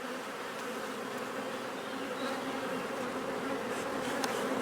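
Honey bees drone steadily around an open hive frame, a dense continuous buzz close by that holds at a constant level throughout, with no talking over it.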